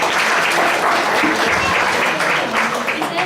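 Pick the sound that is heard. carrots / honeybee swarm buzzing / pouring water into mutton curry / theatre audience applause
theatre audience applause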